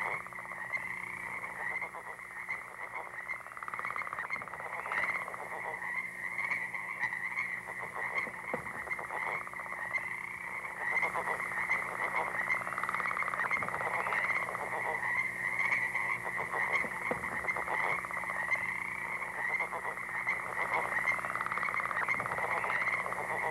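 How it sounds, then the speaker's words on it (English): A leopard frog's grating, mechanical croaks sound at night among a dense, continuous chorus of Pacific tree frogs, with repeated rasping calls rising over the steady trilling background. "The leopard frog in this live recording can be heard among all the Pacific tree frogs by its grating"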